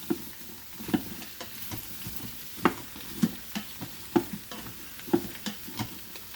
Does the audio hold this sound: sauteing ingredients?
yes